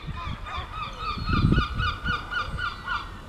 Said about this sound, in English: this is seagull mommy or daddy with 2 seagull babies